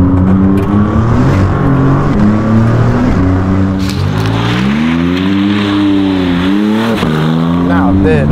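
A Maserati MC20's V6 with a Novitec exhaust accelerates hard, its loud, close engine note climbing steadily through the revs with a brief shift and crackle, while a voice talks over it.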